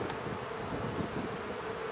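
Honeybees hum steadily at an open hive during a spring inspection, a dense, even buzz that stays moderately loud for the whole stretch.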